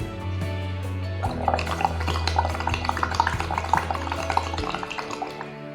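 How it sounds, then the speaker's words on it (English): Breath blown through a tube into plain water in a small vessel, producing a run of bubbling, gurgling pops over about three seconds after a brief quiet start, close and moderately loud. "Now I will blow into water"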